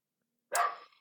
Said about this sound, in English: excuse my stupid dog